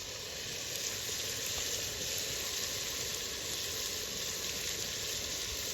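Steady, loud sizzling of ground mint and coriander paste hitting chicken liver frying in a pan at an outdoor village cook, a continuous dense hiss with no pauses.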